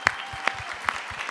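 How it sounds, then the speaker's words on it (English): A small audience claps briefly for a mental wellness advocate, with a few scattered claps sounding close over a quiet room. "I think it's important that we clap for you."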